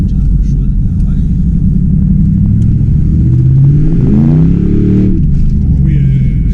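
A 2010 Ford Mustang V8 accelerates hard with its wheels spinning, a deep loud engine roar climbing steadily in pitch as it pulls before easing off, with voices talking over it.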